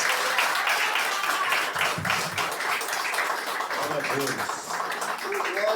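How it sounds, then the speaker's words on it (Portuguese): A church congregation claps in praise at the close of a Baptist service, a steady, fairly loud wash of applause mixed with voices and shouts throughout. "Dê uma salva de palmas para o nosso Deus"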